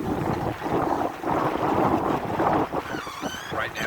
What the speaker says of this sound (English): The wind is almost dead on the nose.